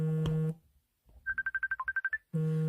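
A telephone rings in a quick run of about a dozen short, bright electronic beeps at moderate loudness, standing alone between louder stretches of sound with no talk.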